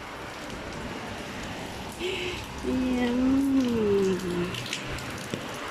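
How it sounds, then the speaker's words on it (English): Rain falling steadily on a rainy day in Singapore, a constant hiss of drops heard up close while walking, with a person's voice briefly speaking over it. "Wow, what a rainy day in Singapore."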